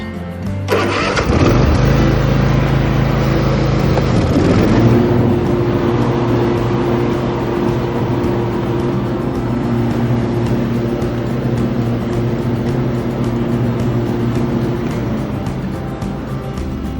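A lawn mower engine, just fitted with replacement parts, is cranked and catches after about a second, then settles into a loud, steady idle with a constant mid-pitched hum close by.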